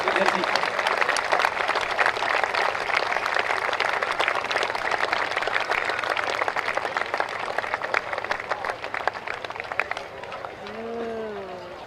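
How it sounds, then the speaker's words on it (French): Loud crowd applause for legends race drivers at a motorsport event, dense continuous clapping that gradually tapers off near the end, with a voice speaking faintly underneath. "applaudissez les pilotes des légendes"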